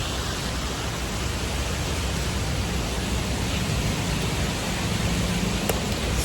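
Steady rain falls outdoors, a dense, even hiss that holds without a break and stays fairly loud throughout, with no voices heard.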